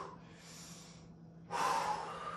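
Two people breathe hard during a squat workout, a drawn breath then a sharper forceful exhale, close and clear with no talking.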